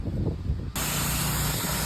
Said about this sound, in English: So I went with a pressure washer and the water instead of my backpack blower.